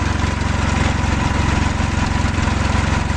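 A mini tractor engine idles at low revs, giving a steady, close, pulsing chug with a regular rhythmic beat and no speech over it.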